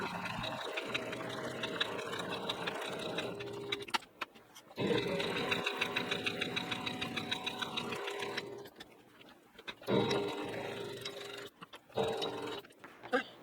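Sewing machine stitching raw-edge applique on a fall sampler quilt block, close whirring runs of stitching broken by short pauses where the needle stops and pivots.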